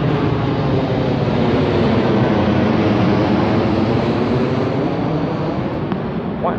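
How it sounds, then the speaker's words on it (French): An airplane flies low over an area close to an airport, a loud, steady, broadband roar filling the whole stretch without any talk. "Whoop, un avion."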